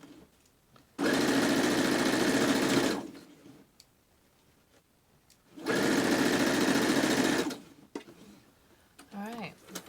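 A sewing machine stitches a fabric mask in two steady bursts of about two seconds each, separated by pauses, with a brief voice near the end.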